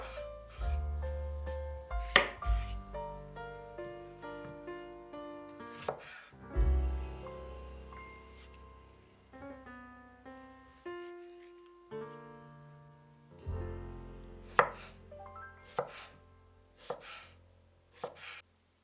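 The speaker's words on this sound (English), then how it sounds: "Cut 1 cucumber into sticks." A knife cuts a cucumber into sticks on a cutting board, a series of distinct close chops with uneven pauses between strokes, crisp and fairly quiet against a still background.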